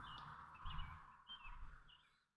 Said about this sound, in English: hopefully you can also hear some of the birds chirping in the background.